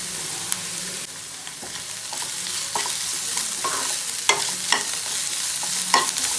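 Onions with ginger garlic paste sautéing in a pan for a vegetarian soya chunk pepper chukka, a steady sizzle broken by repeated scraping stir strokes, close and moderately loud, with no talking.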